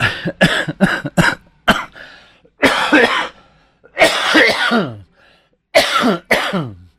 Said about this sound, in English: I was just in the middle of a big old cough